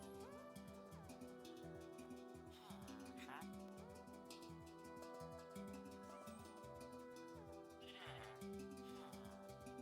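Sheep bleating in a survival video game, repeated bleats rising over a steady, dense bed of game music and ambience while a person talks.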